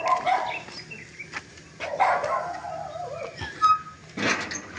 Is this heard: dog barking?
yes